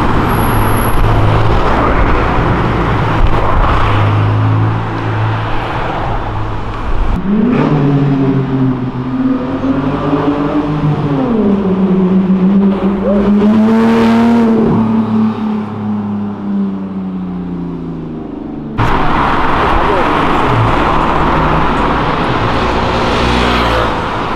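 A Nissan Silvia S15 accelerates along Avenida Europa, its engine note rising and wavering through several revs before dropping away, loud and close amid street traffic.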